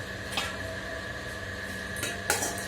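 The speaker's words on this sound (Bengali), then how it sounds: "দুধ ঢাকা দিয়ে দিচ্ছি" A lid goes onto a milk pot in a home kitchen: two or three light metallic clinks and clatters of dishes, separated by quiet moments over a steady low hum.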